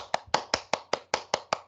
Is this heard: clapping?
yes